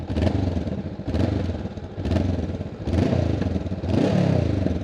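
A 2025 Honda CBR500R motorcycle engine runs loud and close, with rhythmic revving swells and some rattling clatter, no voices.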